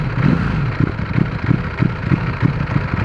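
A Ducati Panigale V4S four-cylinder motorcycle revs close by in short, repeated bursts. Its engine note rises and falls in a rough, pulsing rhythm, loud and alone.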